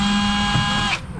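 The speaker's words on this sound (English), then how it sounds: "I'm just using my little DeWalt drill." A small DeWalt drill whirs steadily at a constant pitch while unscrewing Phillips head screws on an RV, then spins down and stops near the end.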